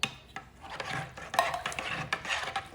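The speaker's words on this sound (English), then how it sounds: "Stir it up a little bit" Chicken and dumplings stirred in a crockpot, a spoon scraping and knocking against the pot in irregular strokes, close and moderately loud with no voices.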